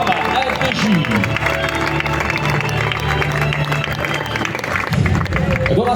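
A crowd at the 2024 Veneto Classic cycling race applauds Frenchman Romain Grégoire of Groupama FDJ for second place. The clapping and cheering form a continuous wash beneath an announcer's amplified voice.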